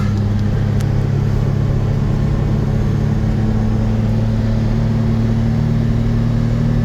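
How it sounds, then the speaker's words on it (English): A 1998 Suzuki Carry four-wheel-drive three-way dump truck with a five-speed manual runs steadily while driving, its engine a loud, constant low hum with strong tonal bands and road rumble, no voices. "And runs pretty fast for dump truck."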